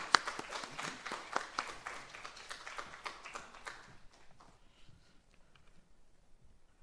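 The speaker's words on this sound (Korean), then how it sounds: "박수로 환영하겠습니다." A church congregation gives a round of applause to welcome a visiting missionary preacher at Sunday service, a moderately distant patter of many hands that thins out after about four seconds into quiet room sound.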